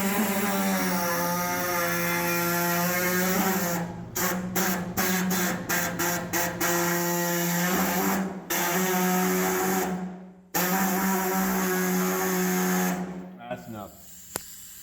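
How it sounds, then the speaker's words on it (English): A small air body saw cuts a hole in a project car fuel tank on an F100, a loud, steady, close, whining buzz that runs almost throughout, broken by a few brief cut-outs before it winds down. "We cut our hole in our tank with our little body saw here."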